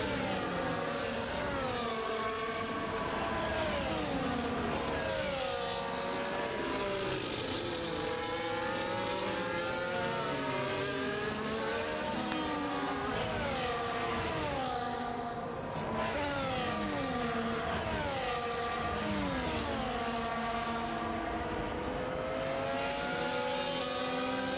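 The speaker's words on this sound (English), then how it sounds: "And Thomas coming up to the back of the McLaren, driven by Sondre" Formula 1 race car engines in a racing video game: many high-pitched engine notes sweep up and down continuously through gear changes as several cars run close together, loud and sustained throughout.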